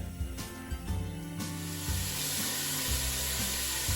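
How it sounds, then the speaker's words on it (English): Chopped onions sweat in a pan over medium heat, a steady close sizzle and hiss running throughout with a few soft stirring knocks. "we're just going to start to sweat the onions off and cook them under, a medium heat"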